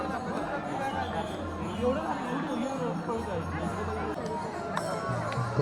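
A large crowd of pilgrims walking along a road during the Ashadhi Wari procession, heard as a steady, dense hubbub of many voices and footsteps all around.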